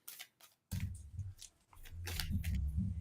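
Tarot cards being shuffled close by, with soft papery riffles and rustling bursts that come in short runs and then a longer stretch, quiet overall.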